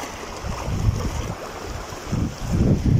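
Water rushes past below a boat, a steady churning wash with rising swells of low turbulence, mixed with wind buffeting, moderately loud and continuous.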